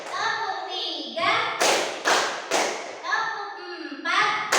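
Children clap a counted pattern in short groups of sharp claps, with an adult voice calling out the counts between each group.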